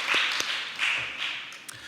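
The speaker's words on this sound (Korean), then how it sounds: "하나님께 영광의 박수 올려드리겠습니다" A church congregation claps together during a Sunday worship service, producing a short burst of applause with a few sharper individual claps standing out.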